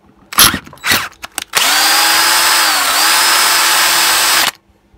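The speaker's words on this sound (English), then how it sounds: "Drill's catching." A power drill drilling a Stihl BG86 leaf blower part runs loud and steady for about three seconds, its pitch dipping briefly as the bit catches, after a few short bursts at the start.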